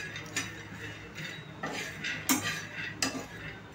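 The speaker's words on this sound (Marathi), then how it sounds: "इथे मी 1 वाटी शेंगदाणे घेतले आहेत, जे मी भाजून घेते आहे।" Peanuts dry-roasting in a pan over a medium gas flame rattle and scrape softly as they are stirred, with light clinks of a utensil against the pan at irregular moments, fairly quiet.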